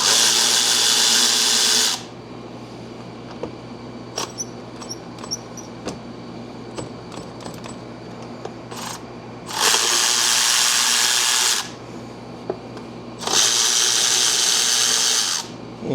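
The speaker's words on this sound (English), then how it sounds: "Time to unbolt those 13s and pull this valve cover out and clean it." On a Chevy Silverado 4.3L V6, 13 mm valve cover bolts are loosened with a power tool, heard as three loud buzzing whirs of about two seconds each, separated by quieter stretches with faint clicks and tapping.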